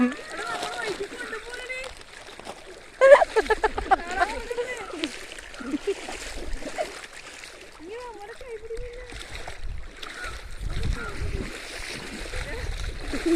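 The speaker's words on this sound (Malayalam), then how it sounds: "കണ്ട ഇപ്പം വെള്ളം കുറവാണ് നോക്കണേ എന്നാലും ഒഴുക്കുണ്ട്" Splashing and sloshing of feet wading through shallow flowing water, with people talking throughout over the steady rush of the stream.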